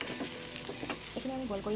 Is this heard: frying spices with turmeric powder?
yes